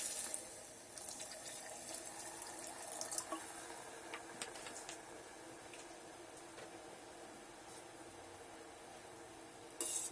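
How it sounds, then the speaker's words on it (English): Water pours from a tap into masala inside an electric kettle, a steady soft trickling and splashing that runs continuously at close range and fairly low volume, with no voices. "Add water to it."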